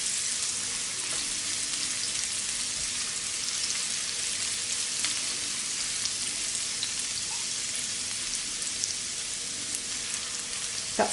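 Garlic and ginger lightly toast in a hot pan for a sesame honey chicken, giving a steady, close, even sizzle and crackle with no talking.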